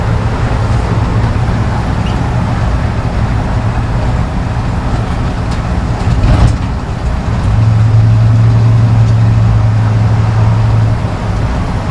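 A 1953 Chevy 3100 patina farm truck with an LS engine swap and automatic transmission drives on regular steel wheels. A steady, loud low engine drone runs throughout, with a brief bump near the middle, and no talk.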